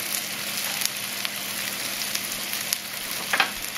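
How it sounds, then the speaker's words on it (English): Brussels sprouts seasoned with salt and pepper sizzle steadily in a hot pan while being stirred, a continuous close frying hiss with a few light scraping clicks and no voices. "Make sure we stir that around."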